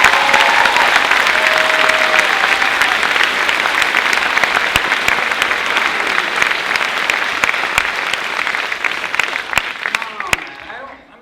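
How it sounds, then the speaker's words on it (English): A lecture audience at Clark University claps loudly for the president. The applause is dense and sustained, with a few scattered louder claps near the end as it thins and fades out. "give your president the applause he deserves"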